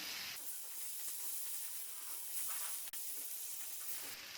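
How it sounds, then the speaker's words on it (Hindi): Tomatoes fry in a pan over medium gas for egg bhurji, a steady soft hiss and sizzle running quietly throughout, with one brief sharp tick midway and no voices. "टमाटर को नरम होने तक भूनेंगे।"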